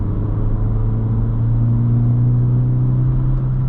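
Engine induction noise from a 2022-2024 Honda Civic Sport 2.0 fitted with an OEM airbox mod and a blocked-off resonator: a steady, loud, close droning rumble with a strong low hum, holding constant with no voices.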